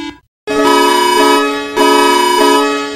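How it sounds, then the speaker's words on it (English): Japan's J-Alert emergency alarm rings out as a loud, steady electronic chime of layered sustained tones that restarts in repeating pulses after a brief opening silence. "Japan J Alert 30 tenth sounds like a G major effect."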